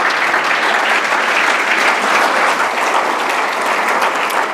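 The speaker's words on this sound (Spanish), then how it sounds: "un fuerte aplauso" Audience at a hydrogen industry panel in Chile applauding the panelists, a loud, dense, steady clapping that fills the hall for several seconds without a break.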